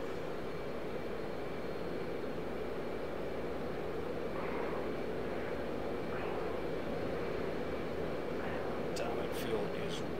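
An F/A-18C Hornet jet engine in the DCS combat flight simulator gives a steady, even, broad roaring drone throughout, with a few faint high clicks near the end.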